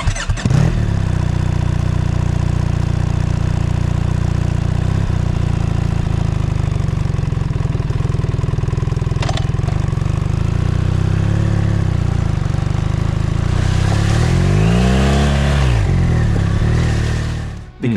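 A BMW R1300GS boxer-twin motorcycle engine runs close by, a steady deep idle with a brief blip near the end as revs rise and fall, then cut off.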